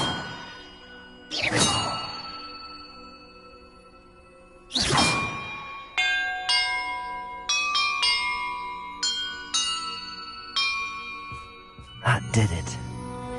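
Magical bells in a Hogwarts Legacy treasure puzzle ring out one after another with bright, clanging tones, two big swells first, then a quick run of chimes that overlap and ring on.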